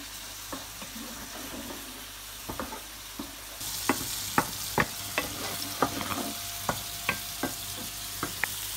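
Egg kurma simmers and bubbles in a pan, a soft continuous sizzle with scattered light clicks and scrapes of stirring, the bubbling growing brighter partway through.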